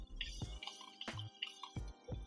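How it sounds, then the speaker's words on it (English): Water is worked into curly hair by hand while styling it with a flaxseed curl defining cream, giving soft wet squishes and drips in a few separate close bursts. "I'm gonna put water in my hair"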